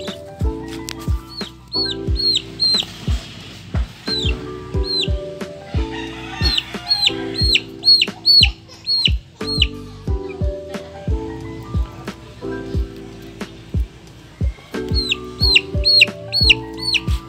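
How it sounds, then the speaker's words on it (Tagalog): A Rhode Island Red chick clucks and peeps repeatedly in short bursts, close and fairly loud, with brief pauses between calls and no talking. "Pakawalan na natin ang maamong sisiw."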